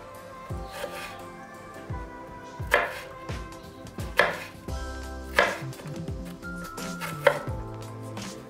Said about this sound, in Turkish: patateslerimizi ufak ufak kibrit çöpü şeklinde doğradık